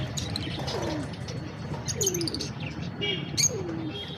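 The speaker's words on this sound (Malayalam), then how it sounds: "പലതരം വെറൈറ്റി പ്രാവുകളൊക്കെ ഉണ്ട്." Pigeons coo in repeated low, rolling calls at a bird shop, layered with frequent bright chirps from smaller birds. The chorus is close and continuous.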